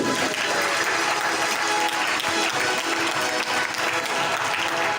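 A church congregation applauds at a French-language worship service, a dense, steady wash of many hands clapping that holds at even loudness throughout, close and full, with no clear voices above it.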